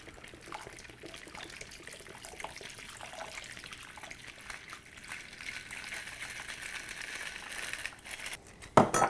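Jack Daniels whiskey liquid, about a cup and a half, poured into meat for a whiskey bologna, giving a steady, soft trickle and splash that runs for several seconds with no talking.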